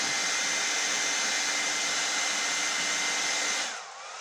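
A hair dryer blows a steady, loud, close whoosh onto a messy painted art piece, then drops to a lower setting near the end.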